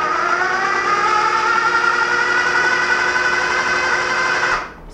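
A food processor spins chives into a smoked trout mousse, its motor holding an even high whine for a single long whirl before cutting off abruptly.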